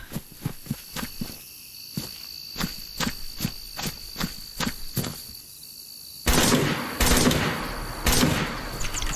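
Gunfire in the video game DayZ: a string of sharp single shots at a steady pace over insect chirping, then a louder stretch of several rapid close bursts.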